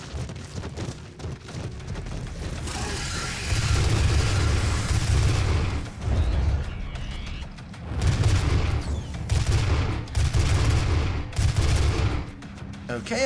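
Rapid gunfire from the shooter game DOOM while picking off enemies for headshots, with heavy booming bursts and explosive impacts in waves over a dense game soundtrack, loud and continuous with brief lulls.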